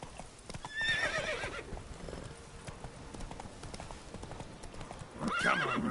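Roach, the horse in The Witcher 3: Blood and Wine, trots with steady hoof clip-clops and gives a brief whinny, fairly soft, with sparse game sounds around.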